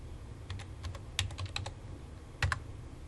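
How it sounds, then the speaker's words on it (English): Computer keyboard keys tapped while entering an offset distance in CAD software, a handful of quick clicks in small bursts with short pauses, close and fairly quiet, no talking. "The first step is to type in the distance of 1 1/8."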